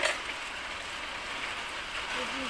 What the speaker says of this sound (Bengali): রোজই বৃষ্টি হচ্ছে